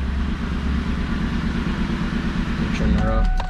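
A 2003 Ford Mustang GT idling with a steady low rumble throughout, someone speaking over it near the end.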